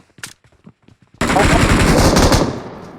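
Rapid automatic gunfire in a shooter video game bursts in loudly after a few faint clicks and keeps hammering in a dense, sustained volley for under two seconds.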